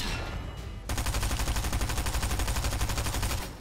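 A Fortnite SMG fires a long, loud burst of rapid automatic shots after a brief lead-in of other game noise.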